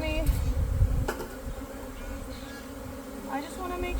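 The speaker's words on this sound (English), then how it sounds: "These bees are getting tired of me." Honey bees buzz in a continuous, fairly close swarm drone while a nucleus colony is installed in a hive, with a few louder passes near the start.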